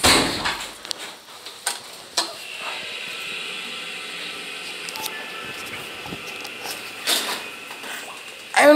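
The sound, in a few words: hydraulic hotel elevator door opening, mechanism running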